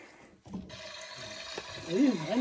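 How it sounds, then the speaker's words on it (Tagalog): Water from a toy faucet on a wooden electronic play kitchen, running as a steady hiss throughout while a child and an adult talk over it. "O, patay mo na yung gripo dito."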